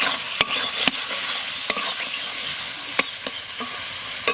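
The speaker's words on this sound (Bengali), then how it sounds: "মশলা কষানো হয়ে গেছে, এখন আলুগুলো দিয়ে দেবো।" Spice paste for dum aloo sizzles and fries in a pan while a spoon stirs and scrapes it in sharp, irregular clacks, close and fairly loud over a continuous hiss.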